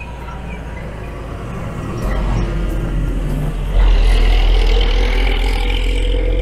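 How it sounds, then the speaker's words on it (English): A big, noisy septic tank truck passes near a sewage plant, its engine rumble steadily building and growing louder and closer, with a heavy low drone and no speech. "now we have a big noisy truck coming here"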